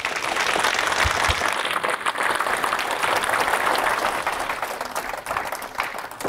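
An audience at a college winter institute evening lecture bursts into sustained, dense applause to welcome economist James Bullard, steady clapping filling the room and tapering slightly toward the end.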